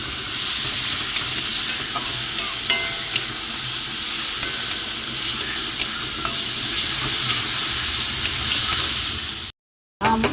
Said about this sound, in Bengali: এটা আমি নুন দিয়ে দেবো, হলুদ দেবো, দিয়ে এটাকে ভালো করে একটু ভাজবো।